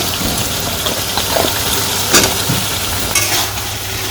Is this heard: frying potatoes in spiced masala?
yes